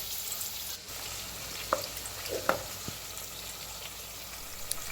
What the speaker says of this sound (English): now we're going to put these in a saucepan with some cooking oil.